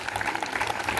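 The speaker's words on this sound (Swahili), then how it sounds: "wapigieni makofi" An audience claps in a steady, dense patter of applause, fairly close and moderately loud, with no voices over it.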